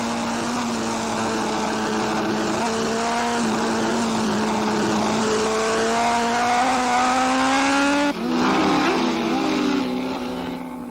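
Freddie Spencer's superbike racing in an 1980s AMA Superbike race, a loud, high-revving engine howl with pitch climbing steadily through a gear, a brief dip at a shift, then rising again, close and continuous with faint commentary underneath.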